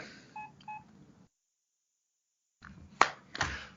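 Mobile phone keypad tones as the handset is switched off: two short tones, a silent gap, then louder clicks and taps near the end, close and fairly faint.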